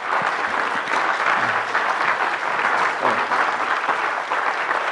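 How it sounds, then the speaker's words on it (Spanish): A conference audience breaks into steady, sustained applause welcoming doctors on stage, dense clapping filling the room for several seconds with no talk over it. "Por favor, recibamos con un fuerte aplauso a los doctores."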